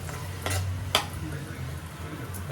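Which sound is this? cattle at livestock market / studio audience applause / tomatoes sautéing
tomatoes sautéing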